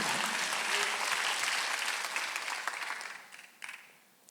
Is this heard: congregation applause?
yes